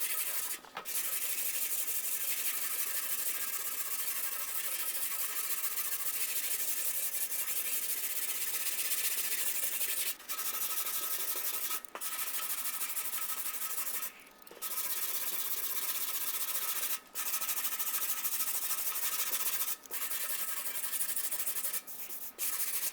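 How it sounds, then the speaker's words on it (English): Hand sanding Bondo body filler with 120-grit paper on a sanding block: a steady, close, abrasive rasp of continuous strokes, broken by a few brief pauses. "Go over it one more time lightly with the 120 on the block."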